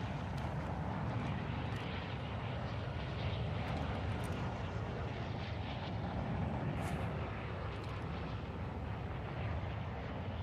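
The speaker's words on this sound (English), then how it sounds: "enemy attack helo is heading your way" Steady, loud rotor and engine roar of an enemy attack helicopter in Modern Warfare 2, a continuous broadband drone that holds constant throughout with faint crackling battle noise over it.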